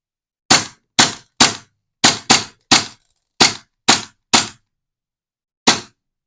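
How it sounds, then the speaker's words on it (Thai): A gas-powered BB pistol fires until its magazine runs dry: ten sharp, loud cracks come in an uneven rhythm over about five seconds, with a brief pause before the final shot and silence between them. "ดูซิว่าจะยิงจนแก๊สหมดได้ไหม"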